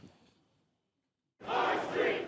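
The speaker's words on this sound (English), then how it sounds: "the massive crowds of counter-protesters that showed up to drown them out" A large crowd of counter-protesters outside the White House bursts into loud, sustained shouting and roaring after a near-silent pause, dense and continuous.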